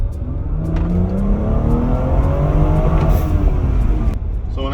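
Newer BMW accelerating hard from a 20 mph roll, a steady loud engine roar with rising whine as revs climb, heard from inside the car.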